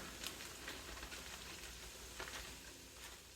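Cooked ground beef sizzles faintly in a skillet, a soft continuous crackle with a few scraping stirs, quiet and close with no talking.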